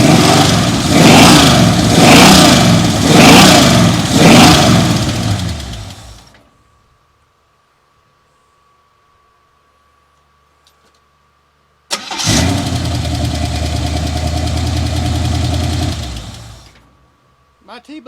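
Chevrolet El Camino engine cranking and catching, loud rhythmic starter pulses, then silence with a faint hum, then the engine firing again into a steady running roar before cutting off, with voices talking around it.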